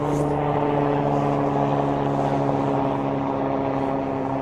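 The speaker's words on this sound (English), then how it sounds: "Nice wee helicopter coming up as well to put me off" A steady, loud droning engine with strong low tonal hum, continuous throughout, from a small helicopter passing close overhead a golf course.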